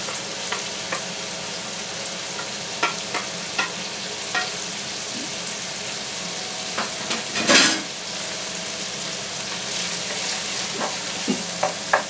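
Onions for an oxtail ragu sweat in a pan with a steady close sizzle, punctuated by scattered spoon clicks and a louder stirring scrape midway, no speech.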